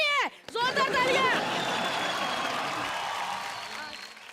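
Audience applause on a Hindi comedy show rises briefly after a host's loud exclamation, a short burst of crowd clapping and cheering that fades out gradually.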